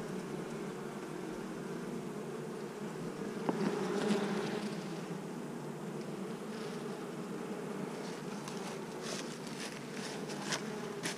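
Honey bees swarm in a dense, steady buzz around newly emerged queens hanging in a cluster, with no one talking, and individual insects whirring louder as they pass close.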